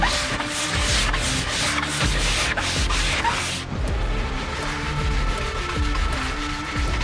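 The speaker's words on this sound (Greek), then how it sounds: "Ξεκινάει το τρίψιμο." Steady, loud abrasive sanding across the rusty metal body of a cheap 4x4 before painting, a continuous rough rubbing with rhythmic pulses that shift in texture midway, with no talk.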